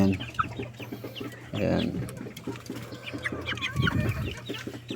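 Three-month-old Shamo Japanese chickens cluck and murmur close by in soft, irregular bursts, with a louder squawk partway through and a brief spoken word from a person.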